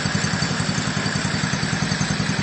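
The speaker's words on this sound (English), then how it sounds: "after it runs a little bit, take out the choke. And that's how you start it up." A GK110 go-kart engine runs steadily after starting, with a fast, even, putt-putt pulse and a rattly mechanical clatter, loud and close with no talk.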